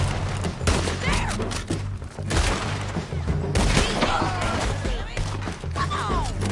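Gunfire in the Red Dead Redemption 2 story mode during a frantic battle near a bridge, with dense, continuous volleys of shots and thuds. The sound is loud and close, with shouting voices mixed in.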